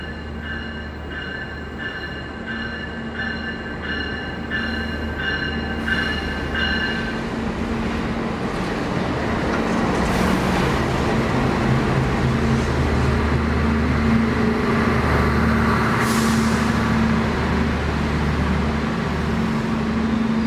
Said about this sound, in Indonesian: Ini dia untuk kereta api Bima sudah masuk